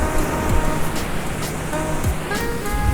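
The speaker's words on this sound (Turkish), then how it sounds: "Dalga 9 kez yarıya kadar geliyor. 10. da tam vuruyor yani." Sea waves breaking on a shore in Bali, a continuous loud surf wash with rolling surges and crashes, close by and with no talking.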